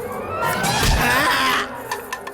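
A loud, drawn-out scream from a tense Hindi film scene swells to a peak and then cuts off, followed by a few faint knocks.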